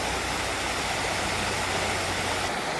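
A waterfall beside a campsite roars as steady, dense rushing water, loud and unbroken throughout, with no voices.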